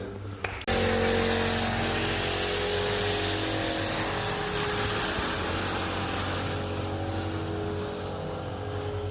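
Compressed air blasting out through open purge nozzles of an automatic lawn irrigation system being blown out for winter, a loud, steady roaring hiss that starts abruptly and holds almost unchanged throughout.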